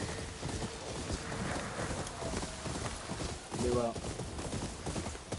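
Rapid hoofbeats of a horse galloping in the video game Ghost of Yōtei, a steady clip-clop beneath someone speaking French, with a brief burst of game sound near the end.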